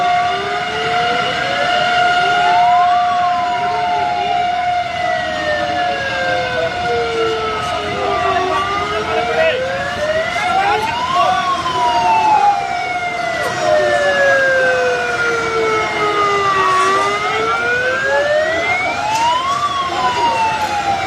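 Fire brigade engines wail continuously at a major blaze on Majestic Road in Moga, the sirens rising and falling in long overlapping sweeps, loud and steady throughout.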